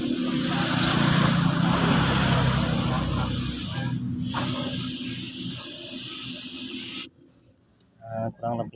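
A steady hissing spray from a spray paint can, applying red candy paint to a 2008 Honda Vario motorbike, runs continuously for about seven seconds, then cuts off, leaving near silence with a couple of faint knocks.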